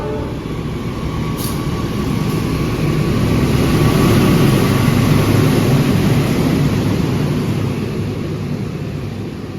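Steady low rumble and broad roar of a busy train station at Cikarang at night, trains and crowd noise blending into one continuous loud wash with a faint tone running through it and no clear talking.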